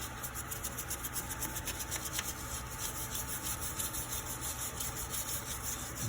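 Brush scrubbing brake dust off the top of a brake caliper on a 2012 Ford Escape, a steady close rasping rub that runs continuously with no pauses.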